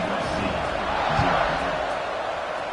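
Steady stadium crowd roar at kickoff in the College Football 26 video game, a broad continuous wash of cheering that stays fairly loud throughout, with a low thump in the middle and faint commentary-like voices mixed underneath.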